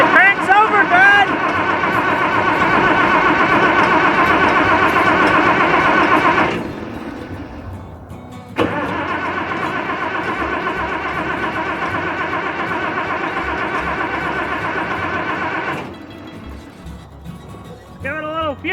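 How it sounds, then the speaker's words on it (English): An old abandoned Case tractor engine cranks over loudly in two long, steady bursts separated by a short pause, with a voice heard briefly at the start and again near the end. "It cranks over good!"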